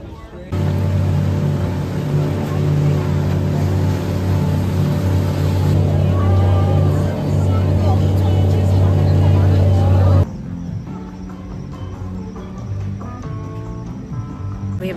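A boat carries riders to Disney Springs at Walt Disney World, its engine droning loud and steady with a deep hum, then dropping to a quieter rumble near the end.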